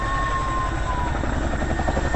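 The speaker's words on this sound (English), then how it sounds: "make sure that the nose of the helicopter remains pointed to one point in the center and the helicopter rotating about" A helicopter hovering and rotating in place at an air show in Kashmir, its steady rotor thump and engine whine loud and continuous throughout.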